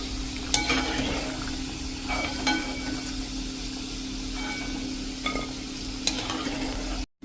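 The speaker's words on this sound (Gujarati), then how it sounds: "એ જ રીતે આપણે આ બાકી રહેલી પણ ઢોકળીને તળી લેશું" Pieces of variya dhokli frying in hot oil, a steady soft sizzle with occasional spoon clinks against the pan, fairly close and quiet, no voices.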